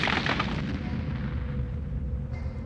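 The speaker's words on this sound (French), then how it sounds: "Ils utilisent des explosifs pour garder le chenal ouvert." Cartoon explosions from a factory ship blasting to keep a channel open: a deep rumbling boom rolls on and fades slowly, heavy and distant.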